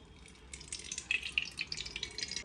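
Water is poured into a metal pot to wash it, making soft splashing and trickling close by that grows from quiet to a steady patter.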